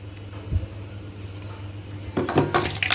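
Fried tindora (ivy gourd) with green chilli and onion pieces being tossed with a spice mixture in a pan, a quiet low hum at first, then a burst of scraping and clattering utensil-on-pan sounds near the end.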